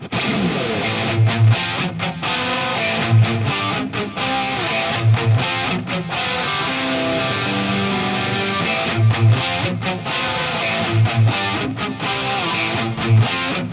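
Blended distorted electric guitar tones dialed in for an 80s metal sound, played through a Blackstar amp and miked with a real microphone, ring out loud and sustained with rhythmic palm-muted low chugs and brief gaps, with no talking.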